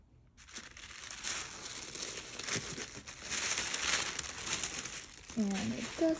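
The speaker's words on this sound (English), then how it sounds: "And it has this really nice tissue paper." Soft tissue paper rustles and crinkles steadily while a small YSL Rive Gauche tote is unwrapped, with a faint bird call near the end.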